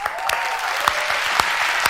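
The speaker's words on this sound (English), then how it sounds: "Why are you clapping?" Studio audience on a talk show clapping steadily, a dense, continuous round of applause with a few sharper individual claps, fairly loud and without speech.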